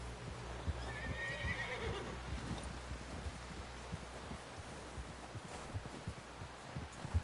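A horse in Red Dead Redemption 2 gives a faint, short whinny early on, over a low, steady throbbing of hooves and rumbling background.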